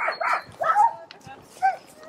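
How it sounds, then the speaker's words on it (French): Sled dogs at a kennel bark and yip at feeding time while bowls are set down: several short, loud, close barks in quick bursts, with a pause and then another bark near the end. "tu ouvres la porte, tu fais reculer les chiens, on recule."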